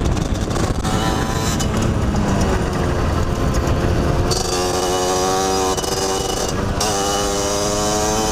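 Enduro motorcycle engine running steadily while being ridden across a field, a loud continuous buzzing drone with shifting pitch as the revs change, close and with no talking.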